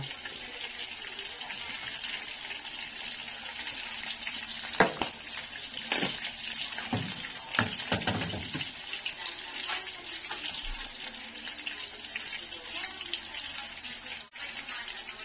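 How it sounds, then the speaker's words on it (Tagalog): Oil heating in a frying pan (kawali) at home, a steady soft sizzle with hiss and brief scraping or stirring bursts in the middle, fairly close, no talking. "nagpapainit na ako ng kawali eh. Lagyan ko ng mantika."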